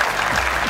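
Studio audience applause on a Persian-language Family Feud-style game show, a brief dense burst of clapping at steady loudness.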